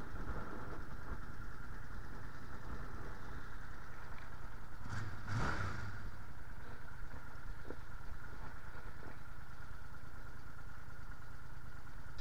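An engine runs steadily after the choke is pushed, a constant low idling rumble with a brief clattering burst midway and no voices.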